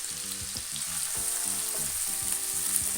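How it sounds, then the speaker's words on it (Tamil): Onions frying in a pan for a Tamil pepper chicken dish, a steady close sizzle with soft stirring scrapes and clinks throughout, no voices. "வெங்காயம் நல்லா வதங்கட்டும்."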